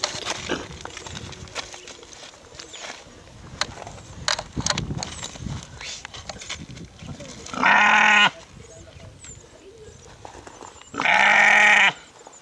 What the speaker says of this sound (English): It is not an easy task as they both struggle to hold on to the goat.